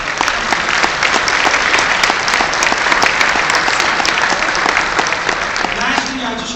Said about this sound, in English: So please give MALDEF another round of applause.